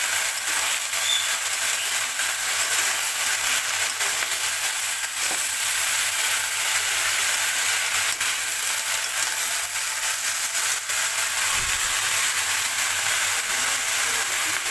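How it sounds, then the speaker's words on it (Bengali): Mixed vegetables with lentil dumplings (bori) hiss and sizzle loudly in a pan, a continuous dense frying noise with occasional faint scrapes of stirring. "নিচে বড়ি লেগে যেতে পারে তাই একটু নেড়ে দিচ্ছি"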